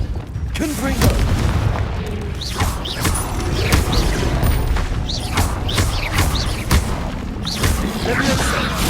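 Spell blasts boom and crash in Hogwarts Legacy, a loud, continuous barrage of thuds, whooshes and impacts layered with game music and effects, with a voice calling out throughout.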